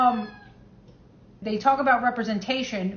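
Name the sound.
cat meowing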